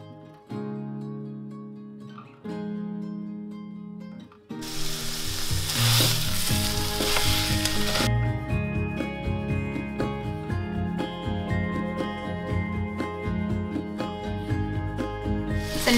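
Ground Italian sausage fries in a skillet, a loud hissing sizzle bursting in after a quiet start. Steady background music plays throughout, and the frying continues beneath it.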